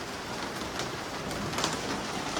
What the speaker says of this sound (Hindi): बादल भी गरज रहे हैं, बादल भी बढ़िया से गरज रहे हैं, और बारिश भी बहुत तेज हो रही है।